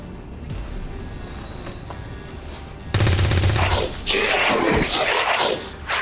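Gunfire erupts in the sci-fi tactics game XCOM 2 during a battle with Advent forces: a loud, dense burst of automatic shots starts abruptly midway after a quieter stretch of background game sound, then continues in heavy rattling waves.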